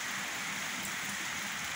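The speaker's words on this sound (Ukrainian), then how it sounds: "Сьогодні дощ падає." Steady rain falls outside a garage, a soft, even hiss with no breaks, faint and continuous throughout.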